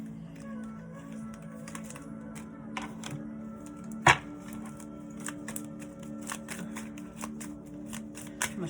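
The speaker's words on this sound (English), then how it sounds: "I'm gonna shuffle those again" Oracle cards being shuffled in quick, crisp bursts of riffling, with a sharper snap near the middle over a low steady hum.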